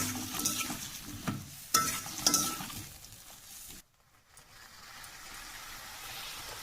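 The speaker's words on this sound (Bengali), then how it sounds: "ওটা দিয়ে এবারে ভালো করে কষাবো।" Spice paste of poppy seed, green chilli and ground cumin sizzling and being stirred in a hot pan, a steady frying hiss with occasional scrapes and clinks of the spatula, close and moderately loud.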